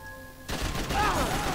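Gunfire in the video game Max Payne 3: a sudden dense burst of rapid shots that starts abruptly and keeps going, loud and close.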